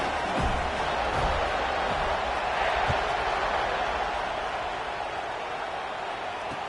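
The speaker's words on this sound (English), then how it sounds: "this crowd is feeling themselves after that last drive" Stadium crowd at a college football game against Arkansas, a broad, steady roar of distant cheering that holds throughout with faint thumps underneath.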